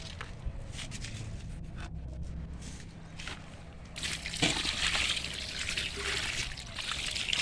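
Mixed liquid fertilizer trickling and sloshing as it is poured into garden compost, quiet at first and then a fuller splashing pour in the second half.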